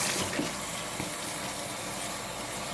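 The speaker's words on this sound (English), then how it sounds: "So I'm just going to rinse it out." Water runs steadily while shampoo is rinsed out of braided hair, a continuous close splashing flow with no talk.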